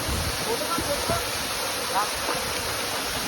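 Hidden waterfall, a steady broadband rush of falling water filling the whole stretch, loud and continuous with faint voices underneath.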